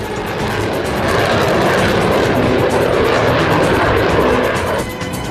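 An F-14 Tomcat fighter jet with twin GE turbo engines roars in a loud, steady broadband rush that holds for about five seconds before easing off slightly at the end.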